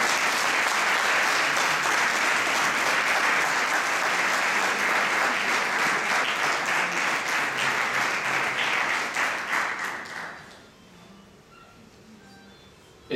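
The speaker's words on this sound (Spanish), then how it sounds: "Lo recibimos con un fuerte aplauso." A large audience at a lecture on Argentina's Supreme Court ruling gives sustained loud applause for about ten seconds, then it fades quickly into near silence.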